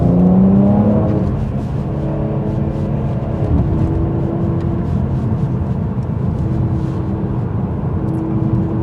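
A 400 hp Mercedes C43 AMG driving fast on an open road, the engine note rising and falling through the gears over a loud steady road and tyre roar from inside the cabin.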